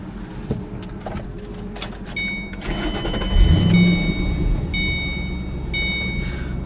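A Ford Mustang convertible's engine starts with a key, catching midway and rising to a loud, rumbling idle, while repeated high electronic warning chimes ring out over it.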